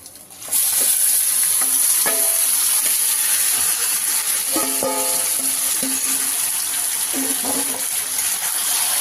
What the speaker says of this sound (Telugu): ఇప్పుడు మనం కలిపి పెట్టుకున్న చికెన్ అంతా దీంట్లోకి వేసేసుకున్నాము